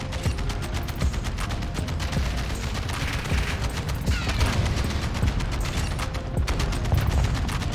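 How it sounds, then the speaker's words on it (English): Heavy gunfire in a Modern Warfare 2 multiplayer match: dense, rapid bursts of shots run loud and continuous from start to finish, with no pauses. "Yeah, they're shooting at us."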